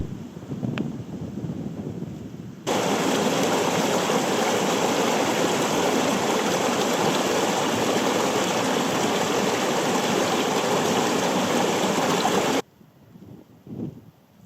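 Mountain river flowing in the Mourne Mountains, a loud, steady rush of water filling most of the stretch, with quieter outdoor ambience before and after.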